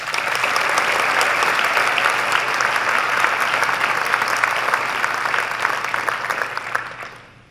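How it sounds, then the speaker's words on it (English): Loud, dense audience applause at an awards ceremony, a steady wash of many hands clapping that holds strong throughout before tapering off at the very end. "please give them a round of applause"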